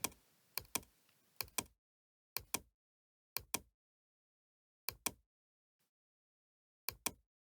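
Keys on a computer keyboard are struck in short clusters of two or three sharp clicks, separated by silent pauses, close and clear with no talk.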